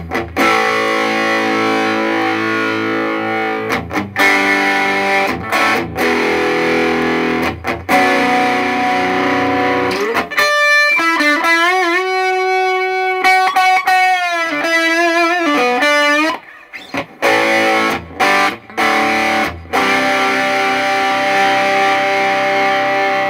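Distorted electric guitar through a Danelectro Vibe pedal, its subtle chorus-phaser-like wash swirling over sustained notes and bends, loud and steady with a few short breaks, playing alone without speech.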